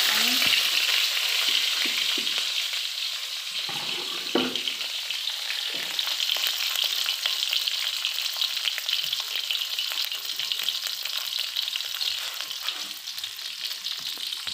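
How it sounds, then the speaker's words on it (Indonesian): Chili and lime leaves fry in a pan in an Indonesian home kitchen, giving a continuous close sizzle and crackle with occasional stirring scrapes and no talk. "Kita goreng sampai matang."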